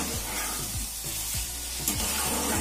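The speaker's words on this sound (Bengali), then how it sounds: "এভাবে ঢাকা দিয়ে দিয়ে কষিয়ে যদি এই রান্নাটা করা হয় তাহলে এই রান্নার টেস্ট দ্বিগুণ হয়ে যায়" Ridge gourd, potato and prawns frying in a covered pan, a steady soft sizzle and hiss running throughout with faint stirring clinks over a low hum.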